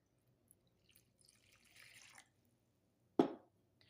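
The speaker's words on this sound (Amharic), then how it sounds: "አሁን ውሃ አደረግነ።" Water poured into flour while mixing dough for dabo kolo, a small roasted bread snack: a quiet, brief trickle, then a single sharper splash, with no talking.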